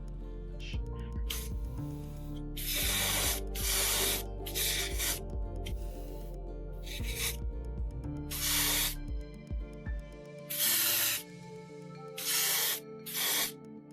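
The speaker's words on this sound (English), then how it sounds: "load the airbrush with a little bit of white and just do a top-down spray" Repeated hissing bursts of an airbrush spraying white paint onto a 1/35 scale model figure, short and long passes with pauses between, close up over a low background hum.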